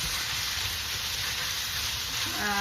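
Pork frying in a pan gives a steady, close sizzle with a bright, continuous hiss that stays even throughout.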